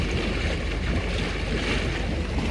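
Continuous bubbling roar from air jets alone in a mini spa bathtub set to mode 3, a steady, even wash of frothing water and air without voices.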